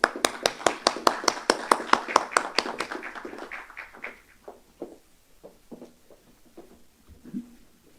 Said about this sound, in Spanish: Recibimos a la señora Juliana Caxia con un fuerte aplauso.